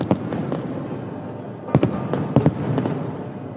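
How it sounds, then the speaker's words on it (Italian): Fireworks pop and crack in scattered sharp bursts, some in quick pairs, over a steady crowd murmur and applause in Piazza Duomo during a religious procession. "Sant'Agata si affaccia su Piazza Duomo, salutata da un tripudio di applausi e fuochi d'artificio."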